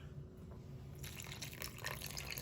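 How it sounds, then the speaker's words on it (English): Water is poured into a bowl of fudge brownie mix with oil and egg, a soft trickling splash starting about a second in and continuing steadily and faint to the end. "and the last one is the water."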